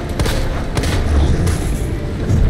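A grenade explodes in the Resident Evil 2 Remake video game, a loud, sustained booming roar with deep rumbling that fills the whole stretch without pause.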